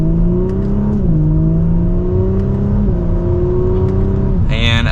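A 2023 Audi S4 Premium Plus sedan accelerates hard from second gear, its engine note climbing steadily in pitch through a gear change, loud and close from inside the cabin.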